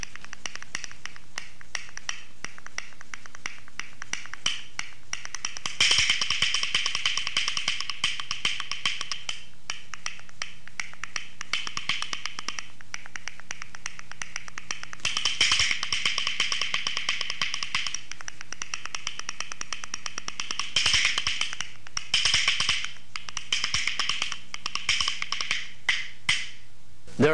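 Rhythm bones are played crossed so they strike high up, giving a fast, continuous run of light, dry clicks at a steady tempo. The sound is fairly quiet, with slight surges in intensity and no talking.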